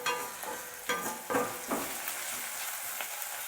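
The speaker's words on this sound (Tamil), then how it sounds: "இந்த சின்ன வெங்காயம் வதங்கும் போதே நல்ல மனம் வருது" Small onions sautéing with salt in a pan for a village-style tomato gravy, giving a steady close sizzle broken by several soft stirring scrapes, with no talking.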